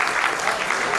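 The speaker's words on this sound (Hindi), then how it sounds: "ताली बजा दो" An audience claps at a Hindi comedy poetry show, a dense, steady burst of applause filling the whole moment at close, even loudness.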